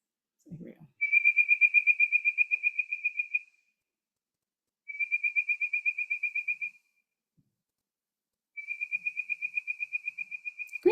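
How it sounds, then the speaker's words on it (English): A bird-voiced tree frog calls in three long bursts of rapid, monotone whistled pulses, each lasting a couple of seconds and separated by quiet pauses, clear and fairly close. "the bird voice tree frog, it sounds like it's whistling. And it's kind of a monotone whistle"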